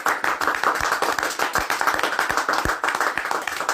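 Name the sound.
congregation clapping in church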